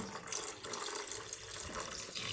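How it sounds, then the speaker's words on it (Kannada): Water splashes and trickles steadily as it is poured into a ground masala paste in a pan for onion sandige, a soft continuous pour with no voices. "ನೀರು ಆ್ಯಡ್ ಮಾಡ್ಕೊಳ್ಬೇಕು"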